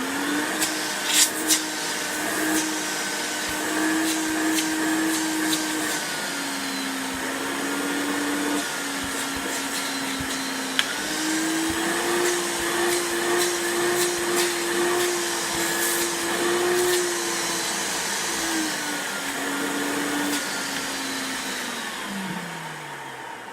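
A Hoover Turbo Power 2 Autosense vacuum cleaner runs continuously at close range with a steady motor whine that shifts slightly in pitch, plus scattered clicks and rattles.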